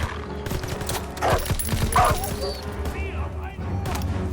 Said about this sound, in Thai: เฮ้ยเหมือนได้ยินเสียงหมา